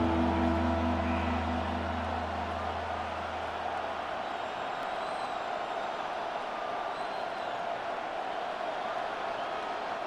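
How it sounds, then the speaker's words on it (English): Steady roar of a stadium crowd in the Madden NFL 26 video game during a Texans versus Cardinals game, a continuous dense wash of cheering, with a low droning tone fading out early. "This crowd turning up the decibel level."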